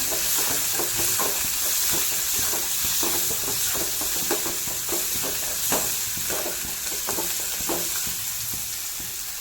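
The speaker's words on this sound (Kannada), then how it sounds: "ಟರ್ಮರಿಕ್ ಪೌಡರ್ನ ಹಾಕ್ಬಿಟ್ಟು ಸ್ವಲ್ಪ ಫ್ರೈ ಮಾಡ್ಕೊತೀನಿ" Spices with turmeric powder frying in a hot pan for sambar, a steady close sizzle and hiss throughout with frequent stirring clicks of a spoon against the pan.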